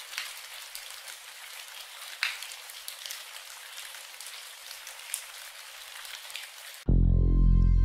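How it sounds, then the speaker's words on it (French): Steady rain patters down with scattered louder drops, a dense hiss throughout; near the end it cuts abruptly into loud music. "Écoutons le bruit d'une pluie d'aurore qui déchoit"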